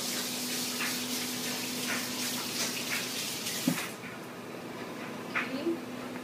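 Tap water runs steadily from a faucet while hands are rinsed in a kitchen, a close continuous splash and patter that drops off partway through.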